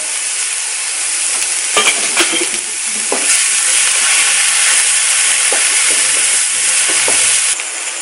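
Onions and tomatoes fry in hot oil, giving a loud, steady, close sizzle and hiss with occasional stirring scrapes and clinks, constant from start to nearly the end.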